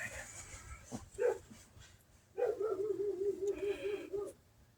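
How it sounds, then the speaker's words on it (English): A neighbor's dog barks outdoors at people walking along a road at night, a short yelp followed by a longer run of repeated, whiny barks, moderately distant, with faint background noise and no talking. "Every time y'all hear their dog barking, it's people walking up and down the road."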